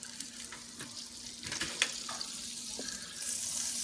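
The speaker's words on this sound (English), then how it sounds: "We're gonna let the butter melt." Butter melting in a pan for shrimp fettuccine Alfredo gives a soft, steady sizzle with a few small crackles, faint and close, with no talking.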